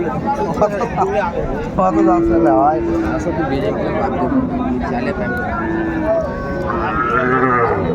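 A cow with calf moos at the Raniganj cattle market, a few drawn-out low calls rising over steady crowd chatter and bargaining voices close by.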